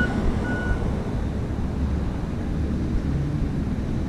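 A truck backing up on a street near a bike route, a faint reversing beep at the start over a loud steady engine and traffic rumble.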